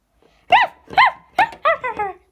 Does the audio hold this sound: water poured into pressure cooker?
no